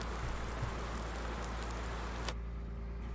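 Rain in the farming video game Farming Simulator 19, a steady dense hiss of falling rain that cuts off abruptly near the end, with no talking.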